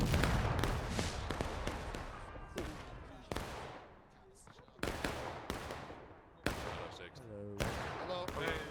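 Musket volleys ring out in War of Rights during a large Civil War-era battle, a series of sharp, ragged cracks, some near and loud, others distant, each trailing off in echo, with voices speaking between them.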